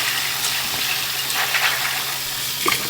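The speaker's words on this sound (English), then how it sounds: "I'm just going to cover it to the top with water because they will swell and absorb some water" Water poured into a pot of three cups of dry soldier beans, a steady close rushing stream with small splashes, heard alone.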